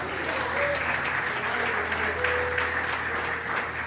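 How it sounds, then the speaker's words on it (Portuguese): A church congregation applauds together in a dense, steady wash of clapping, with a few voices mixed into the sustained crowd sound. "E se você crê, já pode aplaudir a terra."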